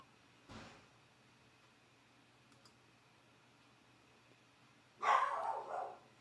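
A dog barks outdoors on a windy day, one short bark early on and then a louder, closer burst of barking a few seconds later, over a steady hum with no talking.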